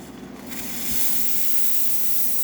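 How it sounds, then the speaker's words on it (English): A La Pavoni espresso machine's steam wand, just after a full service and tune-up, opens with a sputter and then settles into a loud, steady, sustained hiss. "Okay, now we're going to test the steam."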